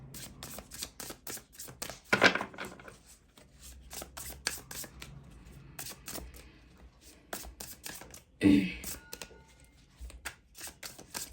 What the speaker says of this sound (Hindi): चलिए यहाँ से भी मैं निकालूंगी 6 कार्ड्स।